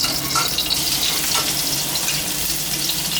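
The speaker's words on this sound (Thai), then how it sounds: "นำพริกกับกระเทียมลงไปคั่วนะฮะ" Chili and garlic stir-frying in oil in a pan for a Thai pork belly dish with chili and salt, a steady close sizzle and crackle that runs unbroken throughout with no talk.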